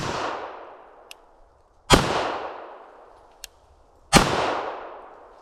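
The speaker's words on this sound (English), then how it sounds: "We'll start with 9mm using my CZ SP01 Tactical. 3 shots unsuppressed into the dirt." Three unsuppressed 9mm shots from a CZ SP01 Tactical pistol are fired into dirt outdoors, loud sharp cracks spaced about two seconds apart, each trailing a short decaying echo, with faint clicks between them.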